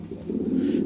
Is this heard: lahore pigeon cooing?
yes